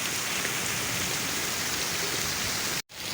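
Rainwater rushing fast during a heavy storm in Murree, a steady loud hiss of flowing water with a brief dropout near the end and no voices.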